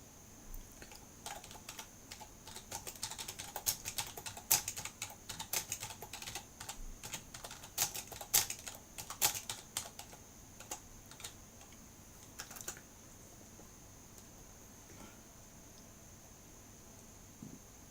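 Steady clicking of a computer keyboard being typed on with one finger, irregular taps clustering densely in the first half then thinning out, fairly close and alone with no talk.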